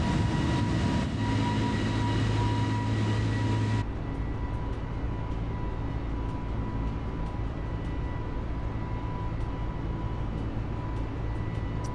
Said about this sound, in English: it feels good taking off on the Airbus